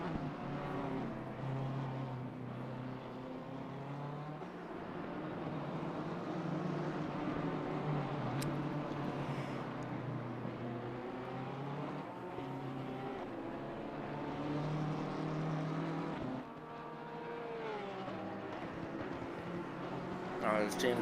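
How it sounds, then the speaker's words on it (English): Race cars lapping the Nürburgring in the racing game Assetto Corsa Competizione, a continuous loud engine drone with rising and falling gear-change sweeps, heard under steady commentary. "rapidly closing that gap to the car ahead of him"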